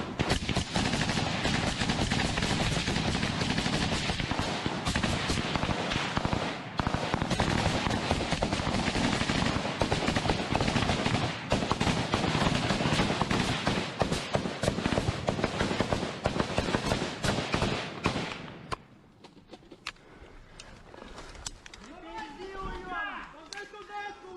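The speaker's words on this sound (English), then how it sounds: "We see the Ukrainians laying down fire." Ukrainian forces lay down sustained gunfire in a wartime firefight: dense, rapid bursts of shots merge into a loud, continuous roar for about nineteen seconds, then fade to scattered quieter sounds.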